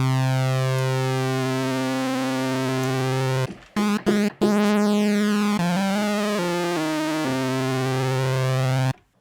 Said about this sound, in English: now the noise module is going to modulate the pitch of oscillators 1 and 2